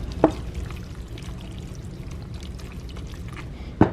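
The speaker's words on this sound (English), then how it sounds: "Simply pour everything in a baking dish." A squash mixture is poured into a baking dish with a soft, continuous pouring and sliding sound at close range. Brief clunks of the dish or utensil come at the start and end.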